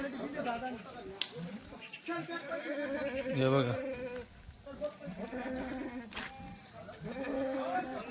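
Several goats bleat with wavering cries over a busy outdoor background of buzzing insects and murmuring voices.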